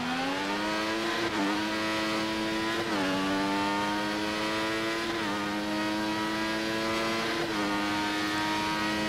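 A Formula 1 car's engine in F1 2014 wails in a high, steady tone, dipping and climbing again with several gear shifts over about nine seconds.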